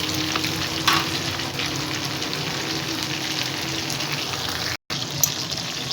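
Chicken frying and being stirred in oil in a kadai, a steady loud sizzle with scraping stir strokes running throughout, briefly cut off near the end.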